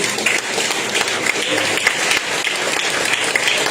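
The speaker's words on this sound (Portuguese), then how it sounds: "Aplauda o Senhor Jesus" Church congregation applauding steadily, a dense, even wash of many hands clapping close and loud, with faint voices underneath.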